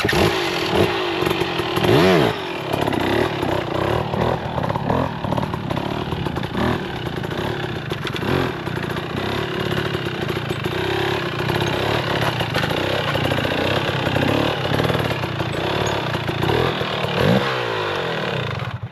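A motorcycle engine revs loudly and repeatedly close up during a wheelie attempt, rising and falling in bursts of throttle over a rough, buzzing idle.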